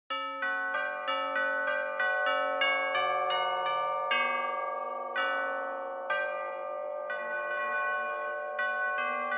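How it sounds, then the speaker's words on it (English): Tubular bell hits from a free Christmas software instrument plugin, a rapid series of bright struck tones with ringing decay, played as a melodic run, clear and alone. "Tubular bell hits."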